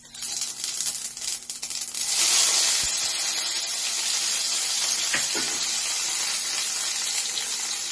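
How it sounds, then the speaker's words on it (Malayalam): Steady hissing sizzle of hot oil as mustard seeds splutter, with faint crackles and pops, continuous and close, no voices. "പാനിൽ കുറച്ച് ഓയിൽ ഒഴിച്ചപ്പോൾ അത് ചൂടായി. കടുകിട്ട് പൊട്ടിക്കും."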